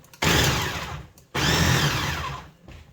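Gluten-free, dairy-free dinner ingredients ground in a blender, with two loud close bursts of motor whirring and grinding, each starting abruptly, separated by a short stop.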